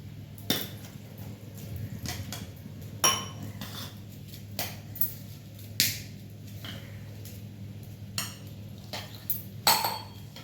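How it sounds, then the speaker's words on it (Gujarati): A spoon knocks against a bowl at irregular intervals while lemon juice is mixed into batter for Gujarati patra. The sharp clinks stand out over a quiet background. "એવા આપણે આ લીંબુ છે ને એમાં નાખી દઈએ। એવા આપણે આનો બેટર બનાવવાનું છે"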